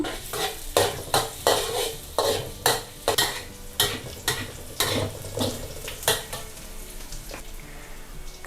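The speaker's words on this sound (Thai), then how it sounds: "ผัดกระเทียมจนกระทั่งมีกลิ่นหอม" Chopped garlic stir-fries in oil in a wok, with a brisk rhythmic run of spatula scrapes and clinks over a continuous sizzle, close and fairly loud, slowing toward the end.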